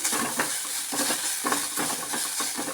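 Garlic and grated coconut stirred in a hot pan for a Kerala sardine curry and thoran, a steady close sizzle with rhythmic scraping strokes about every half second and no voices.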